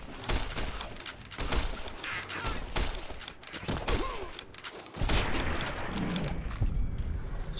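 Gunfire in Fallout New Vegas: a dense series of sharp shots and bursts crackles over busy game noise, with a louder cluster of blasts near the end.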